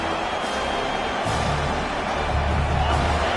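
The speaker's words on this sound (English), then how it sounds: "listen to this crowd noise. This stadium is vibrating." Constant roar of a packed stadium crowd in the College Football 26 video game, Kentucky versus Georgia, a dense wash of cheering and noise running steadily throughout with low rumbles swelling underneath.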